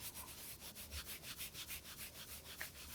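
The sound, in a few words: hands rubbing the outside of the knee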